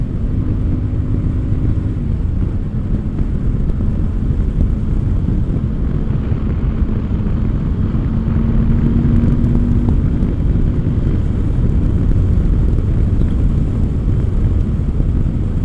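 Royal Enfield Super Meteor 650 motorcycle picking up speed, a steady deep engine rumble mixed with heavy wind buffeting on the microphone, the pitch rising slightly partway through, with no talk.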